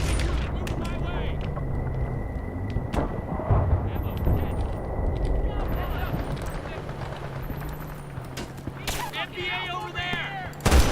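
Gunfire in the Vietnam expansion of the video game Battlefield: Bad Company 2, with irregular loud shots and bursts amid in-game noise and a player talking over the action.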